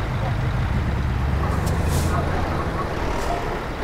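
A truck in a truck driving video game idles with a dense, steady engine rumble, and a short hiss of air brake release cuts through midway, while a person talks.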